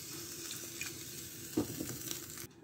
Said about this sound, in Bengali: এখন আমি দুধটা অ্যাড করে দিচ্ছি।